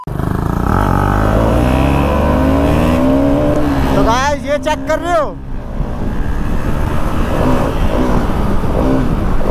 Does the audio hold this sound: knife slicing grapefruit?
no